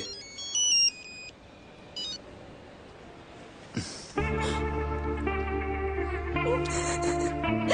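A mobile phone plays an electronic melodic ringtone, loud and continuous, starting partway through after a few faint beeps, with no talking over it.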